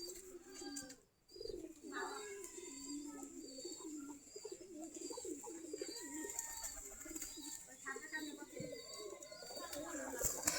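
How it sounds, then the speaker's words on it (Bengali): Local Giribaj pigeons coo softly in a loft while feeding, low rolling calls repeating under faint background noise and brief chirps, with a voice nearby. "সবগুলা দেশি গিরিবাজ কবুতর ওই যে দুয়ার দিয়ে খাবার খাচ্ছে।"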